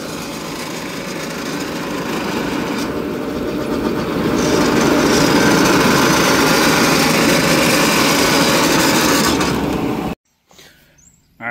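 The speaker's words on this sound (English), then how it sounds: "Now I'm just sharpening knives." A motor-driven grindstone sharpens corn silage harvester knives, giving a loud, steady mechanical whine and grinding roar that holds for about ten seconds and then cuts off abruptly.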